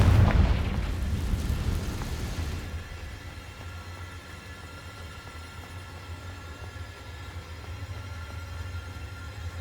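The Confringo fire spell exploding in Hogwarts Legacy: a loud, booming blast that fills the first few seconds, then fades into a low, lingering rumble with faint background ambience.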